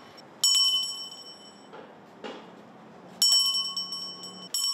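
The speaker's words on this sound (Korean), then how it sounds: "바쁘게 오가는 사람들 사이로 구세군 종소리가 울립니다." A Salvation Army charity hand bell rings out on a busy city street in Daegu during the year-end season, bright metallic tolls in bursts that ring on and fade, with quieter street bustle between them.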